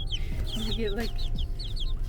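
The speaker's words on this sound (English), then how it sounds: "now we're gonna go pick up chickens" Several chickens cluck and chirp in quick, overlapping calls close by, over a steady low rumble of background noise.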